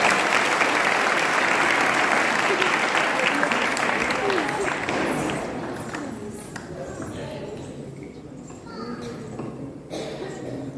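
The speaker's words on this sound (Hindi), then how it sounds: "जोरदार तालियों के साथ इनका स्वागत करिए।" Loud applause greets two child performers at a Govardhan Pooja festival stage program; dense clapping from a crowd swells for several seconds, then thins and fades while voices carry on underneath.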